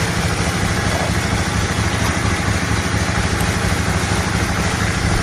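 A Honda Mirage 250 motorcycle engine idles close by, a loud, even, steady rumble with a fast regular pulse and no break throughout.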